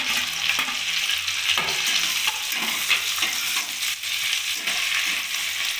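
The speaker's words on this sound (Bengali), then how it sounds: "পিঁয়াজটা একটু লাল করে আমি ভেজে নেবো ক্যাপসিকামের সঙ্গে" Chopped onions frying with capsicum in a pan for chili chicken, giving a steady, close sizzle with occasional stirring and scraping throughout, and no talk.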